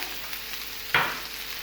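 White parts of spring onion hit hot oil in a pan with garlic paste for butter garlic chicken, giving one sudden loud sizzle burst that tapers into steady frying hiss over a quiet background hum.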